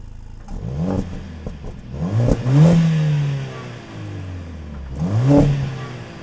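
Mercedes-AMG A 45 S engine revving in Sport Plus with the exhaust opened up, a few loud rising blips that sweep up and fall back, close by and with no talk over them.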